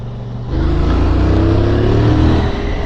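A QJ Motor SRV 550 motorcycle accelerates hard in third gear, its engine note swelling loud and steady from the start, rising in pitch, then easing off near the end.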